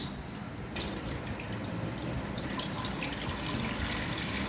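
Water pours steadily into a home fish tank with a continuous trickling, splashing rush, starting softer and swelling after the first moment, close by and alone without talk.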